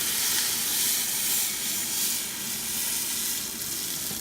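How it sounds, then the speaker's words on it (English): Beef stock hits a hot cooking pot for beef nilaga, giving a loud, continuous hissing sizzle with rushing steam that stays close and fairly even throughout. "And then we'll add our beef stock."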